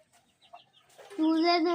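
A chicken in a village flock lets out a clear drawn-out call after a few faint clucks, fairly close and standing alone.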